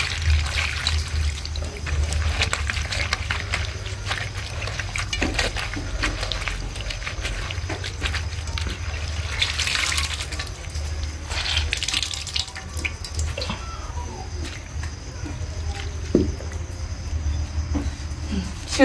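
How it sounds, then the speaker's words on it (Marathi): Water is poured into a kadhai to cook ambadi (sorrel) greens with gram flour, a steady splashing pour and trickle close up that runs continuously, with occasional clinks and faint background sounds. "तर त्याच कढाईमध्ये पाणी टाकून घेतलं आणि आंबाड्याची भाजी शिजून घेणार आहे ना."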